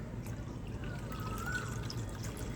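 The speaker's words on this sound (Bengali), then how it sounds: "তো এখানে আমি আরও একটু ঠান্ডা জল দিয়ে দিচ্ছি।" Cold water poured into homemade guava juice, a soft continuous trickling pour with a faint rising gurgle midway, quiet and close with no voices.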